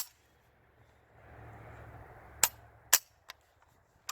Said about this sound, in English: I'll go ahead and give you guys trigger pull. The gun is empty, just an empty mag.